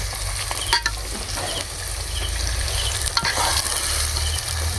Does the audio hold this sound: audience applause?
no